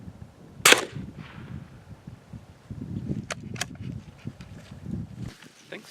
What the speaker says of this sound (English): I'm gonna shoot just one because I don't have a lot of faith in that block